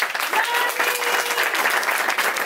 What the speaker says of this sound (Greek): θέλω πολύ μεγάλο χειροκρότημα στο Γιάννη το Μωραΐτη